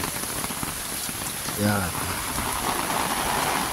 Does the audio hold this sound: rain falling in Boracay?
yes